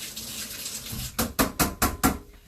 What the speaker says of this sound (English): So get your sieve, give it a rinse